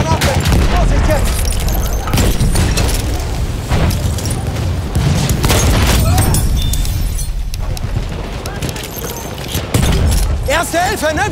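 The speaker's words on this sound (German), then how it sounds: "Ich werfe eine Granate! Vorsicht jetzt!" Grenade blasts and gunfire in Battlefield 1 multiplayer, dense booming explosions and scattered shots layered continuously with loud shouting voices over the battle noise.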